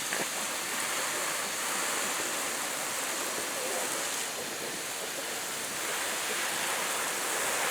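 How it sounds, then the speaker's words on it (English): Water spraying from a hose onto newly planted basil in a raised garden bed, a steady, broad hissing rush that runs continuously without pause. "water these in so we can get done with this video."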